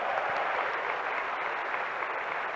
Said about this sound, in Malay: Okey, yang sebelah kiri juga. Beri tepukan juga.